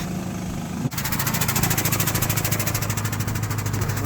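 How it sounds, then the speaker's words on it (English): The feeder house fans on a combine harvester run during a soybean harvest, close and loud. A sharp shift about a second in gives way to a steady mechanical drone with a rapid, even pulsing. "These are the fans on either side of the feeder house that keep the dust from blowing back out"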